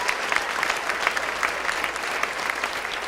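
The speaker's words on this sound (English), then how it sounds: "let's give a round of applause." An audience at a teacher of the year gala claps steadily, a dense patter of hands with no break, fairly close and even in volume.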